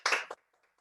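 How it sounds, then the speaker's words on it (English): Two quick hand claps from one person, the first sharp and sustained, the second shorter, in a quiet room while a guest is applauded. "I can clap for her for that, because that's a big breakthrough."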